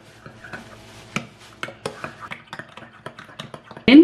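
Washed ingredients are mixed with salt and lemon juice in a bowl, making a string of close, irregular clinks and scrapes from a utensil against the bowl, with a louder knock at the end.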